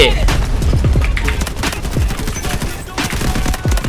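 Rapid, sustained fire from a Vityaz submachine gun in Delta Force, dense close-range bursts of shots running continuously with a voice talking underneath.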